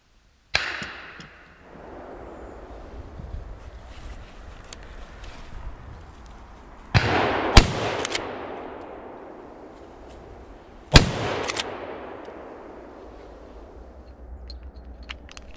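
Rifle shots from a Blaser R8 fired at wild boar during a driven big-game hunt: three sharp, loud reports spaced several seconds apart, each trailing off in a long outdoor echo, with no voices.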